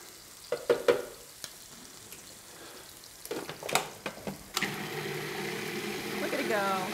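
A blender purees a cream and butter sauce for sea scallops. A few clanks and knocks come first, then a steady, loud whirring motor runs continuously while a person speaks.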